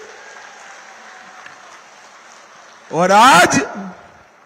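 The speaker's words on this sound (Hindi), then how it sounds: "जोर से ताली बजाइए जरा चारों प्रत्याशियों के लिए।" A rally crowd in Paschim Medinipur, West Bengal, applauds for a speaker with a steady, wide wash of clapping; a voice then speaks loudly over it near the end.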